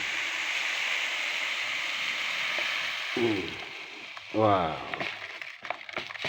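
Onion seeds being poured into a seed-treatment medicine solution, a brief rushing pour under a steady background hiss, with short bursts of talk near the end.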